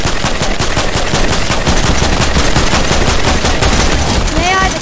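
Rapid automatic gunfire from a computer-controlled enemy in a shooter video game, loud and continuous bursts filling the whole stretch, with a rising whistle-like tone near the end.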